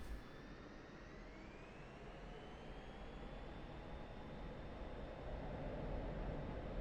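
A jet aircraft spools up and rolls down the runway for takeoff in the DCS World flight simulator during aerobatics practice, with a steady loud roar and a rising engine whine that builds throughout.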